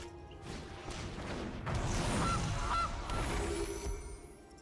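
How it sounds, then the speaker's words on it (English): The Gilded Goose card animation in the game MTG Arena gives a couple of short honks amid a crunchy, swooshing effect burst, moderately loud over a low background. "my opponent wanted to see the Gilded Goose animation"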